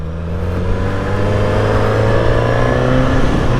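A KTM 990 Duke motorcycle engine pulls under acceleration, a steady, loud, close throaty drone that climbs gradually in pitch, with no talking.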